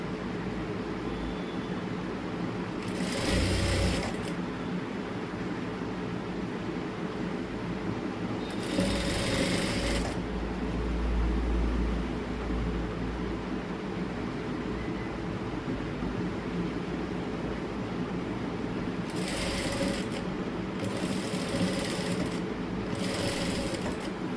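A sewing machine stitching fabric in a home boutique, running in short whirring bursts separated by pauses, with a steady background hum between runs.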